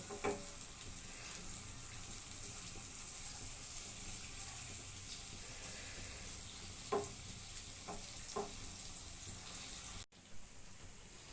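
Brinjal (baingan) for bagara baingan frying in oil and masala, a steady soft sizzle throughout with a few brief spoon scrapes and taps as the pieces are gently turned, no talking.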